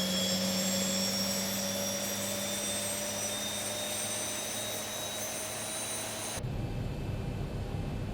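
Boeing 737-800 jet engine spooling up during start in the X-Plane 11 flight simulator, a steady whine with rising tones over a broad rush of air, cutting off abruptly near the end, no voices.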